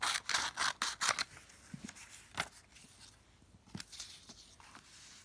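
Scissors snipping through paper while cutting out pictures, a run of quick close crisp cuts at first, then slower scattered snips and paper rustles, quiet overall.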